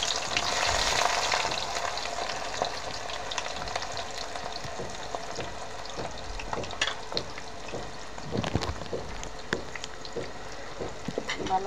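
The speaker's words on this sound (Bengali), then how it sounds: "ভালো করে একটু নরম হওয়া পর্যন্ত, পেঁয়াজের কালার চেঞ্জ হওয়া পর্যন্ত আমি একটু ভুনে নিব।" Chopped onions frying in a pan for a Chittagong-style beef tripe dish, with a steady crackling sizzle and intermittent sharper pops and stirring scrapes, close and continuous.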